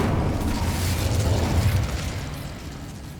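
An Incendio fire spell is cast in Hogwarts Legacy as a loud whooshing burst of flame swells and rumbles for a couple of seconds, then tapers off, with no voices.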